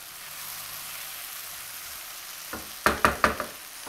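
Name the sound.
sliced tomatoes added to frying pan, sizzling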